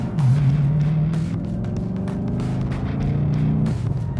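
A B7 Audi RS4 Quattro's 4.2L V8 revs hard under steady third-gear acceleration, a deep droning roar rising in pitch, loud and close from inside the cabin.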